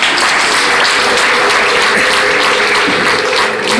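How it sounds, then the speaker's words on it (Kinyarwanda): Loud, dense applause from a wedding crowd fills the whole stretch, steady and close with no pauses. "Noneho rero uburyo bukomye amashyi"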